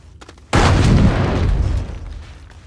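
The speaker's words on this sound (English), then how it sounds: "that was a big explosion" Stacked radiation boxes in Astroneer detonate in one big explosion, a sudden loud boom that rumbles on for over a second before fading into quiet debris.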